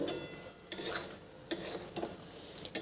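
Semolina pilaf with fried peanuts is stirred in a pan, with a few quiet, separate clinks and scrapes of a spoon against metal spaced a second or so apart.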